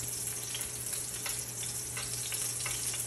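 Salmon burgers frying in a pan while being basted, an even, continuous sizzle with faint spattering crackles throughout, close and moderately quiet with no voices.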